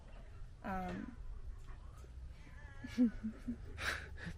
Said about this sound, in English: my noisy kitty